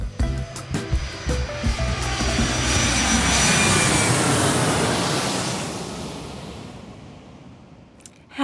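A commercial airliner's jet engines swell to a loud, broad roar for a takeoff, building over several seconds and then fading away toward the end, with no voices.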